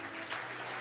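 A church congregation applauding during a French-language prayer service, a continuous wash of many hands clapping, steady and moderately distant, lasting under a second with no clear voices over it.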